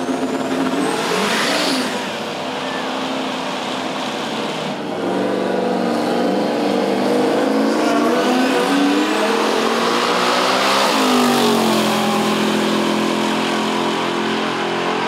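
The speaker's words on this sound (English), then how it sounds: "Nathan Walters takes on Shane Richardson. In this round, we've got Ford versus Chevy, a classic battle, Mustang versus Nova." A Ford Mustang and Chevy Nova at a midnight drag race roar loudly together, engines revving and rising in pitch as they launch and pull away, a continuous close, heavy engine blare.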